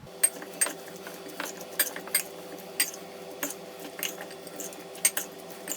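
Chicken avocado pasta salad being tossed in a bowl, giving light, irregular clinks and soft taps of utensils against the dish at a moderate distance, fairly quiet with no talking.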